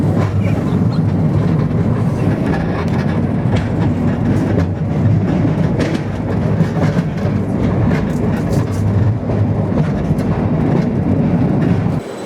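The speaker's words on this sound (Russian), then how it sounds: "Поезд следует на станцию входа в пещеру." A metro train rumbles steadily and loudly through a tunnel toward a cave-entrance station in Abkhazia, wheels clattering rhythmically on the rails, with no voices.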